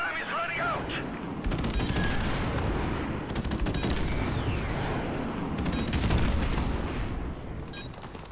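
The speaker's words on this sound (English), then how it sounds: "Friendly airstrike on the way!" Gunfire and explosions roar through a Call of Duty: Modern Warfare match as a friendly airstrike comes in, with dense overlapping shots and booms building loud and continuous, and game voice callouts mixed in.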